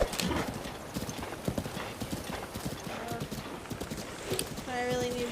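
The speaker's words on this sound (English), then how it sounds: "if I get on a road, the horse will automatically follow it." A horse gallops in the video game Zelda Breath of the Wild, rapid rhythmic hoof clip-clops running throughout, with a brief whinny near the end and a person talking over it.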